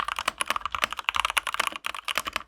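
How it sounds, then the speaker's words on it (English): Typing on a budget mechanical keyboard with thocky, smooth keys and a retro style: a rapid, close run of crisp key clacks, steady and dense, with no talking. "I was absolutely blown away by how thocky and smooth these keys felt at such a low price point. I mean, just listen."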